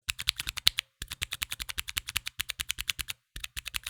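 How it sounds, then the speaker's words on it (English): Fast, close keystrokes on a Mantistek GK2 mechanical keyboard with Cherry MX Brown tactile switches, crisp clattering clicks in quick even bursts broken by two brief pauses, with no voices. "There's also a noticeable sound too, and they sound like this."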